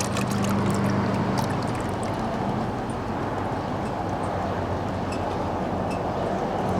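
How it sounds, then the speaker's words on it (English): Water sloshes and swirls steadily in a tipped gold pan while panning for gold, a continuous close wash of moving water with no voices. "Tipping the pan here."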